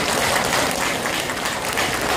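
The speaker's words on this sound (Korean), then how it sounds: "박수 한번" An audience at a church anniversary thanksgiving service breaks into dense, continuous applause, loud and sustained with no pauses.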